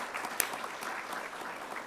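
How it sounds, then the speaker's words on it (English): An audience applauding at a retiree recognition event, a steady patter of many hands clapping together over the full stretch, with no voices. "So, that's Bob, who's not here, but we can clap for him anyway."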